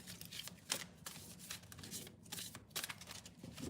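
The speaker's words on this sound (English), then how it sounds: "I didn't pre-select or pre-shuffle, so we're gonna pull the cards live." A deck of tarot cards being shuffled by hand, a continuous riffling and flapping of card stock with quick bursts, close to the microphone and with no speech.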